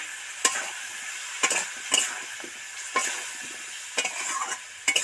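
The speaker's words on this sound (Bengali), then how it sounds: "এবার একটু ওর মধ্যে জল দিয়ে দেব করে নেড়ে ছেড়ে মিশিয়ে দেব" Fried potatoes with coriander, chilli and turmeric powders and a little water are stirred in a pan, with a steady sizzle under spaced scraping strokes of a spoon, about seven clear stirs over the frying hiss.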